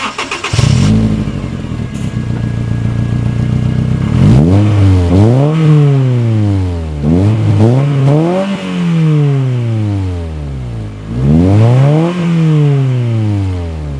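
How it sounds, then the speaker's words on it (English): A Honda Fit engine idles, then revs repeatedly through a throaty custom exhaust, each rev rising and falling in quick bursts, loud and close. "So now we'll just do a quick few sound clips just so you guys get the vibe of this exhaust"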